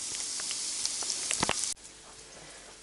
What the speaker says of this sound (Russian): Пока у меня обжаривается морковь